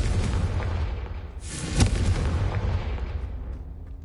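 A Confringo fire spell from Hogwarts Legacy goes off as a loud close blast, with a sharp burst partway through and a rumbling boom that fades away.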